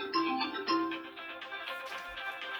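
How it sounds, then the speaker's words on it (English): A mobile phone ringtone rings indoors, a bright melodic electronic tune with repeating notes that plays steadily and fairly loud for the whole moment, with no talking over it. "excuse my phone for ringing"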